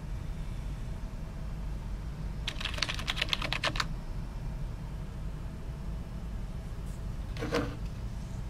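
Typing on an NPET K70 LED gaming keyboard, a short quick burst of clicking keystrokes, then a brief second flurry a few seconds later, over a steady low hiss.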